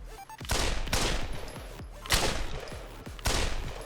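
Gunfire in Pavlov VR, a virtual reality shooter: four loud, sharp shots spaced roughly a second apart, each trailing a booming echo, close and in the clear with no talking.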